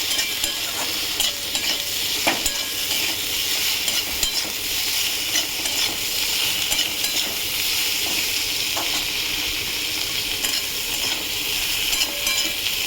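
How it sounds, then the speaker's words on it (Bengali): Chopped ginger fries with spices in a pan for mustard-sauce okra, a steady close sizzle with light scraping stirs of a spoon against the pan, no voices. "আদাটাও ভাজবো মশলাটার সাথে।"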